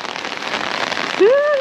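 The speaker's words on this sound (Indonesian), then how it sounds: "Tadi panas, sekarang hujan." Steady rain falls on a surface in a continuous hiss, with a brief tonal sweep near the end, outdoors at a market.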